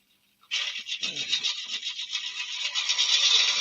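A sharp turning tool takes an 8mm cut across a yew wood platter on a lathe, a steady, rough scraping hiss that starts abruptly and continues loud and close.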